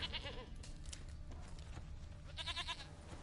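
A goat bleats in the video game The Witcher 3, with two short, wavering cries at the start and near the end over a low, steady ambient game background.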